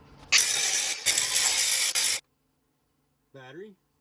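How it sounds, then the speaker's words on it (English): An angle grinder grinds a steel weld on a homemade tube spike, a loud hissing whir with a brief dip, then cutting off abruptly, followed by a short spoken remark. "So, next thing is angle grinder. Let's make some sparks"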